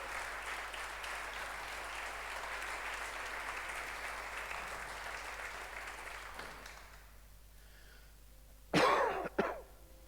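A church congregation applauds the word during a sermon, a broad round of clapping that gradually thins and fades, followed by a few sharp coughs and throat clearing close by.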